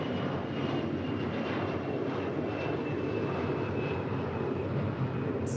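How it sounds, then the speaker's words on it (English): An Airbus A321neo jet arrives at LAX with a steady, dense engine roar at moderate distance, holding constant through the short stretch with no talk. "775 coming in from Tampa on an A321neo"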